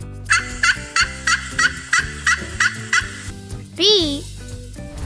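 A turkey gobbles in a quick series of about eight sharp, loud bursts at a steady rhythm, close and clear, followed by one longer wavering, sliding call.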